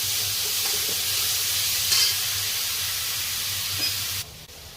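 Onion and ginger-chili paste sizzling in a hot pan, a loud continuous hiss with faint stirring scrapes, cutting down abruptly near the end.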